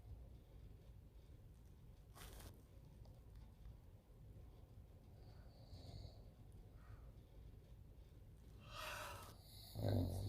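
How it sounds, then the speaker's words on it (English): A man snores in his sleep in a quiet room, with faint breathy snorts and a louder rasping burst near the end. "You so freaking loud when you snore."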